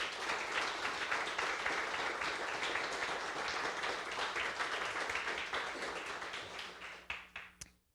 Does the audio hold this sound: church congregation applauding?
yes